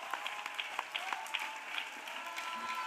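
A church congregation claps steadily, a soft and fairly distant patter of many hands that holds an even rhythm throughout, with no talking over it.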